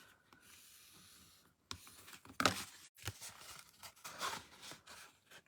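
A bone folder presses and rubs along the fold of a paper fan card, giving faint, close scraping strokes and soft rustles in short uneven bursts.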